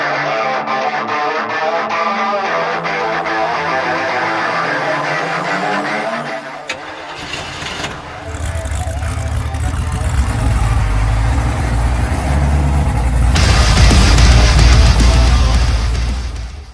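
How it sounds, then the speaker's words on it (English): A scooter engine turns over and catches, then runs with a loud, steady buzzing rumble that swells and holds near the end. "Ricky, fire up the scooter."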